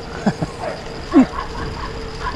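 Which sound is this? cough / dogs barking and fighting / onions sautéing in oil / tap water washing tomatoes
dogs barking and fighting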